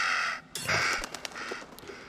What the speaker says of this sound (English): Frickin' bird.